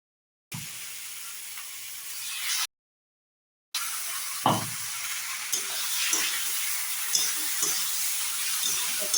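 Sesame and mustard paste frying and being stirred in a pan, a steady soft sizzle and hiss with occasional scraping knocks, broken by a brief silent gap partway through.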